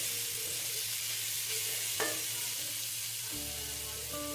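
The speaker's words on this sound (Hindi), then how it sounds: "1 टेबलस्पून लहसुन डालूंगी और अदरक, ये दोनों इकट्ठे मैंने डाल के इनको कूट लिया है। इनको अच्छी तरह भून लूँगी।" Crushed garlic and ginger fry together in a pan for a beef yakhni pulao, giving a steady close sizzle with light stirring scrapes and one brief clink midway.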